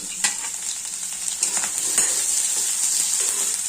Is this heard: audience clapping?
no